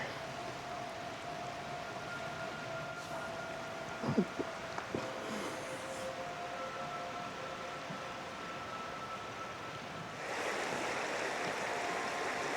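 Indian Creek in Pine Hills, an Indiana state park, flowing as a steady broadband rush of water, with faint tonal hums and a couple of small clicks, swelling louder near the end; no talking.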